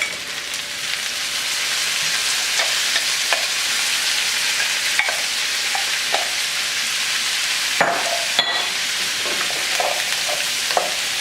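Frozen broccoli and browned pork sizzling steadily in a hot pan, with scattered scrapes and clacks of stirring over the continuous loud frying hiss.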